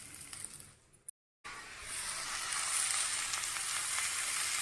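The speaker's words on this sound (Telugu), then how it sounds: "ఇది కొంచెం ఫ్రై అయింది కదండి టమాటా ముక్కలు వేసుకుందాం" Tomato pieces go into a pan for a Telugu methi moong dal dish, and a loud, steady frying sizzle swells right after a brief dropout, close and with no talk over it.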